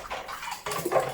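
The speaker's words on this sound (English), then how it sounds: "So I just have time to do the washing up while it's cooking." Dishes are washed up in a sink, with short splashes of running water and clinks of crockery in two quick bursts.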